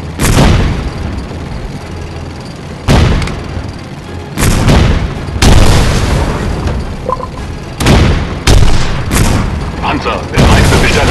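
Grenades blast repeatedly in the World War II game Road To Valor, loud booming explosions and gunfire hitting in several heavy waves over about eleven seconds, with game voices shouting in between.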